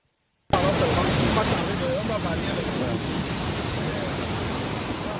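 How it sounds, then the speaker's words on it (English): Meche waterfall in Cameroon, dropping about 40 meters, gives a loud, steady roar of rushing water that starts abruptly and holds constant throughout. "This mythical waterfall that drops from a height of about 40 meters"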